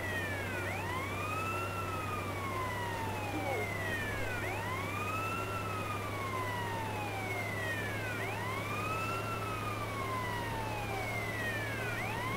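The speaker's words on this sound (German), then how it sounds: "Ich hau schon mal die Sirene an, damit ich Platz habe." Wailing fire truck siren from Grand Theft Auto: San Andreas, a steady rising-and-falling electronic sweep repeating about every two seconds over a constant low engine drone, loud and continuous throughout.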